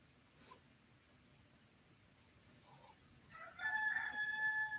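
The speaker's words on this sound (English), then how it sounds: "The rooster's loving crowing on here or what?" A rooster crows once, far off, rising out of a quiet, low-humming background near the end.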